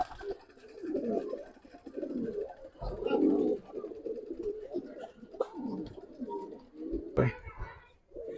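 Giribaz pigeons cooing in a group, repeated soft throaty coos overlapping at close range, with a few brief clatters and faint background sounds.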